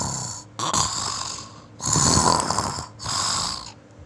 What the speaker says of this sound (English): Zigzag went off to sleep on the curtain rod, and he started to snore.